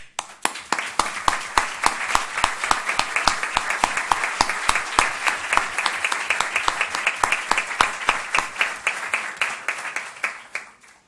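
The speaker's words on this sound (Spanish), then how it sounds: "para quien pido un gran aplauso." Applause at a World Jurist Association presidential appointment ceremony, mostly a few nearby sharp hand claps in a fast steady rhythm over a wider crowd patter, lasting about ten seconds before stopping.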